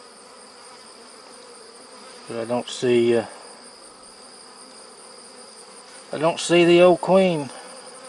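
Honey bees hum steadily from two small nucleus colonies joined into one hive, a continuous close buzz with a faint high whine running throughout, while a person speaks briefly twice over it.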